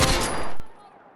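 A burst of rapid gunfire from the video game Battlefield 6 rattles loud and close, cutting off abruptly and leaving a brief fading tail.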